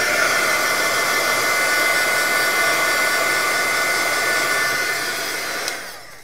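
A heat tool blows a steady, loud whooshing hum close by while drying ink on paper, running continuously before clicking off and winding down near the end.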